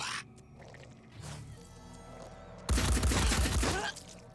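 Gunshots from a heavy squad's weapons in the tactical game Phoenix Point: quieter clatter builds into a loud, dense burst of fire lasting about a second before cutting off.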